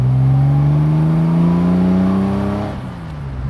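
A Porsche GT2 EvoM engine revs hard under throttle at Spring Mountain Raceway, its loud, close, rising roar climbing steadily in pitch before easing off near the end.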